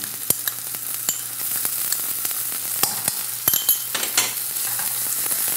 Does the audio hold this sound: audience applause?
no